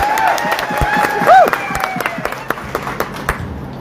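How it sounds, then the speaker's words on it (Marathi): An audience at a Congress party workers' meeting claps, starting as a dense burst of applause that thins into scattered individual claps, with a held tone audible over it. "एकदा जोरदार टाळ्या."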